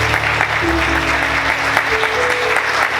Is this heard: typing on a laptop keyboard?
no